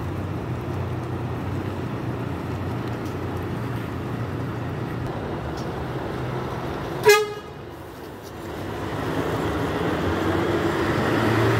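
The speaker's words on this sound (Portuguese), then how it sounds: "Às 17h10, mais um Vista Bus DD da Expresso União." At a bus station in Governador Valadares, a vehicle horn gives one short, sharp toot midway through, standing out above a steady low rumble of idling engines and background hum.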